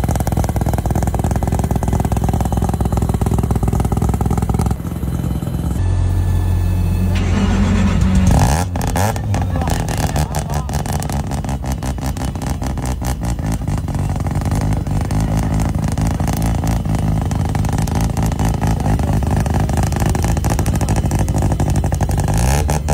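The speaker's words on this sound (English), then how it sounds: "these engines rev high, sound awesome" A high-revving rotary engine in a Toyota GR86, about 500 horsepower, blares loudly and steadily, then climbs sharply through repeated throttle blips with no talking.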